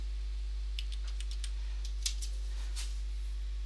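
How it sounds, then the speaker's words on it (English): Keystrokes on a computer keyboard while text is entered into a word processor, a sparse run of light, irregular clicks over a steady low hum, with one sharper tap partway through. "Carry on typing."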